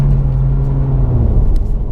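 A 2018 Honda Civic Si engine accelerating in sport mode, a low steady drone with a rising harmonic tone heard from inside the cabin, loud and continuous with no talking.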